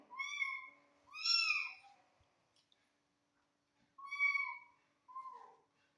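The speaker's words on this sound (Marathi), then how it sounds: "ही मांजर आहे" A cat at a village home meows four times in two pairs separated by a pause, clear and fairly close against an otherwise quiet background.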